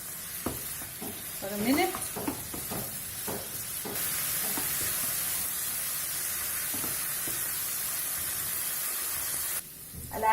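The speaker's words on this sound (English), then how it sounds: "Coat them with the sauce. Toss them around" Chili chicken being tossed in sauce in a hot pan, restaurant style, rattles with scraping stirs at first, then settles into a steady, even sizzle and hiss. A short spoken phrase comes early, with a clatter at the close.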